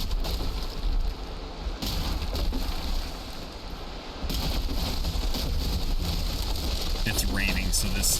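Steady rain falls in the Valheim game, a continuous hiss of drops with brief swells and faint wind behind it.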